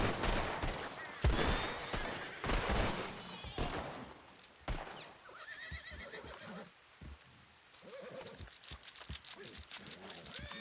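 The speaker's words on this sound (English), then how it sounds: "we're gonna fire 3 into the air in tribute to her" Three Colt revolver shots fired into the air during a western ranch roleplay game: sharp, loud cracks in quick succession, with horse whinnies and hoofbeats around them and faint voices in the background.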